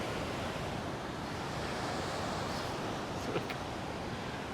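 Steady broadband roar of surf waves peeling and breaking at Kandooma in the Maldives, with wind mixed in and no voices or distinct single crashes.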